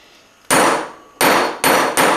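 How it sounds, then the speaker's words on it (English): A big hammer strikes a 24 gauge sheet metal piece four times, each blow a sharp, bright metallic clang that rings briefly, the first alone and the last three in quicker succession, close and loud with no talking. "So I'm going to start here with the nice big hammer."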